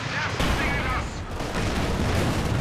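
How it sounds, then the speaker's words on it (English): Gunfire and booming shots from a Company of Heroes 2 match as a bazooka hits a Panzer IV, dense battle noise running steadily throughout with a voice talking over it. "Bazooka's connecting there on the Panzer IV"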